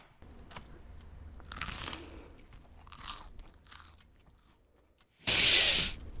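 A bento is eaten in the horror video game The Convenience Store with a few soft crunchy bites, then one loud, sharp crunch near the end, heard without talk.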